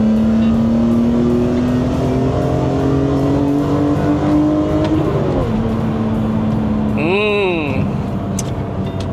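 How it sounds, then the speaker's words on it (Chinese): A BMW M3 E46 engine revs steadily inside the car, its harmonic tone climbing gradually, then dipping and sweeping sharply up and down near the end, loud and continuous under faint road noise. "就是要高转哦，高转声音好听"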